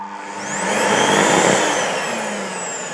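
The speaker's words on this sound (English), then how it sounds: "there's some serious arcing going on" A cheap Anko vacuum cleaner runs with a faulty motor that arcs badly, giving a loud, close, rough roaring whine that swells and then eases slightly.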